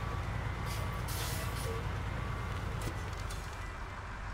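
Heavy truck engine droning steadily in the SnowRunner video game, with hissing air-brake bursts over the rumble, loud and continuous with no talk.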